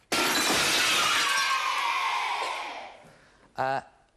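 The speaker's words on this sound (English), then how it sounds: "Oh, no, I've just smashed my crystal ball." A crystal ball smashes with a loud burst of shattering glass that rings and fades over a few seconds, followed by a brief sharp tonal sound.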